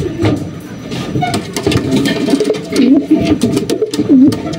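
Racing pigeons coo in soft, repeated rolling calls close by, amid rustling and scattered clicks and knocks.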